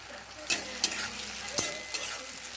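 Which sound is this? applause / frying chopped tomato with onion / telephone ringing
frying chopped tomato with onion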